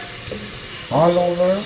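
Garlic frying in oil in a frying pan gives a steady sizzle beneath a voice speaking throughout.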